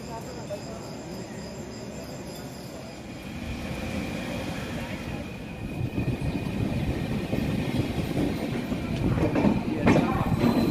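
A superfast express train pulling into platform 3 of Asansol Junction, a rumbling roll with rising clatter and a faint squeal near the end, heard under loud insect chirping on the platform.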